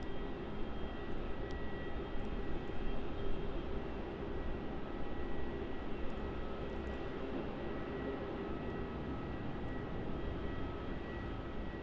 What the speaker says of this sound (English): So that right there on your screen is Qantas Link Flight 52 from Devonport. Dash 8300